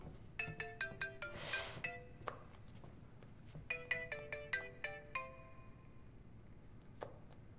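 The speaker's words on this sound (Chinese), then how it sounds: "我接个电话。" A phone ringtone plays as a quick melodic run of bright chiming notes, pauses, then repeats, fairly quiet with a few soft thumps and sparse pings in between.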